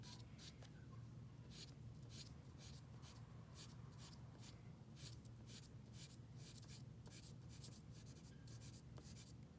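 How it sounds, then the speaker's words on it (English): A charcoal pencil hatches diagonal strokes across paper, a quiet rhythmic series of short scratchy rasps repeating steadily, close and faint with no talk. "let's do some hatching, and I'm going to use my pencil"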